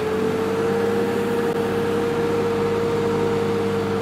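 A tractor engine strains steadily while working a wet field on an organic farm, with a sustained droning hum at a constant pitch. Moderately loud, with no talk.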